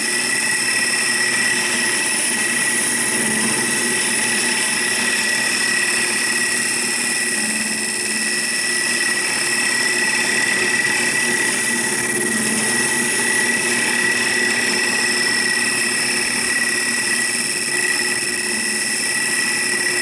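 A power tool skims down a segmented walnut and cherry bowl, giving a loud, steady, unbroken whine and roar that holds constant for the whole stretch without talking.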